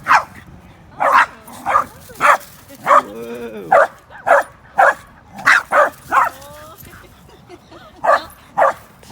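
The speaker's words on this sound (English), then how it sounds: "What is this, a barking contest?" Dogs bark in sharp, repeated bursts, roughly a dozen loud barks with a brief whimpering whine between them, close by, and a person exclaims once.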